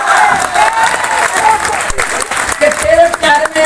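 Audience clapping at a large outdoor Hindi poetry gathering (kavi sammelan) at a fair in Tundla, a dense, steady wash of applause with scattered cheers and voices mixed in throughout.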